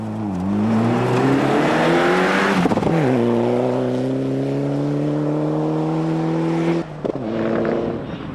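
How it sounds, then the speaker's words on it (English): Ford Escort Cosworth rally car on a 1997 rally stage, engine screaming at high revs close by, pitch climbing, a sharp gear change, then holding a hard steady drone before another shift as it passes. "there was no missing Roger Davis in his Escort Cosworth"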